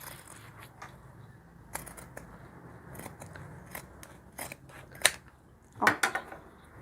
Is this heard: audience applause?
no